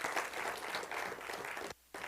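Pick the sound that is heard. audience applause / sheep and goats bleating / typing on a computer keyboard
audience applause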